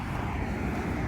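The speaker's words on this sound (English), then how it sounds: "Close to a road. You can hear the cars going by." Traffic passes on a nearby road as a steady low rumble and hiss of car engines and tires, with no gaps between vehicles and no voices.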